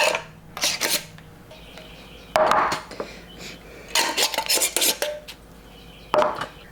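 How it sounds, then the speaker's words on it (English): Metal lids being set onto glass canning jars of fish before pressure canning, giving several bursts of clinking and rattling clatter with short pauses between, close and fairly loud, with no talk. "I'm gonna go ahead and finish putting these lids on"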